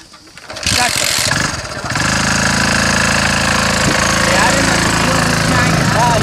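A motorbike engine starts up and settles into a loud, steady idle close by, a rough continuous chug that runs to the end, with some voices faintly underneath.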